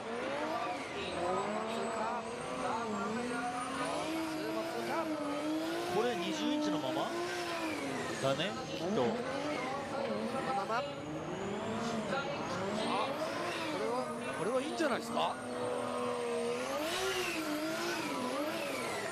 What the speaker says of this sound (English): Turbo sound almost louder than the exhaust on this car.